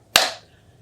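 A single sharp hand clap rings out close and loud, imitating a firecracker popping, with a short decay and no voices.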